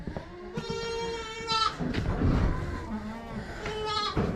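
Several goats bleat on a farm, a few wavering calls spread across the stretch with a noisy, busy background and some faint voices underneath.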